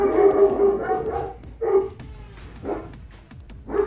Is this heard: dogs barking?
yes